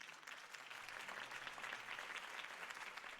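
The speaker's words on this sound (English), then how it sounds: "If only Mr. Wayne, my campaign's largest backer, could have heard that applause" A crowd applauds Harvey Dent's campaign speech in the video game Batman The Telltale Series, steady dense clapping heard faintly and at a distance, with no talking.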